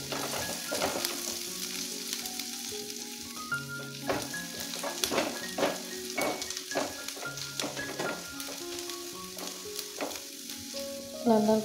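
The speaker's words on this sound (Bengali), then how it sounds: "পেঁয়াজ দিয়ে দিচ্ছি, পেঁয়াজটা অল্প লাল লাল করে ভাজে নিয়ে" Onions fry in oil in a wok, a close, continuous sizzle broken by repeated metallic spatula scrapes and clinks in an uneven rhythm for the whole stretch.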